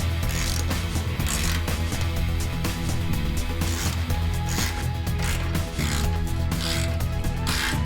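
Bolts on the skid shoes of a snowblower, an MTD, Craftsman or Troy-Bilt type machine, are tightened with a ratchet, giving a loud, close, continuous rapid clicking of the pawl with metallic rubbing, alone and without talk.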